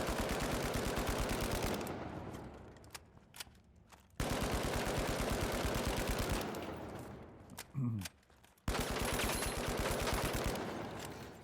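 Rapid automatic gunfire from a video game weapon, shown as a recoil-control demonstration, comes in two long sustained bursts. Each ends in a pause with a few faint clicks, and a third burst starts near the end. Loud and close, with no talking.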